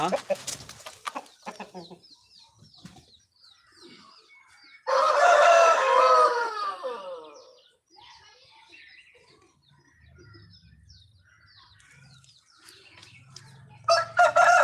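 A loud, close fighting-rooster crow rings out between stretches of softer clucking and scattered talk at a rooster sale, with a low rumble underneath.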